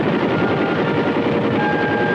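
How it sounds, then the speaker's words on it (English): Vietnam War-era Huey gunship helicopters fly overhead with the 4th Infantry, producing a loud, steady roar of rotor and engine noise that holds unbroken throughout. "the heavily armed Huey gunships"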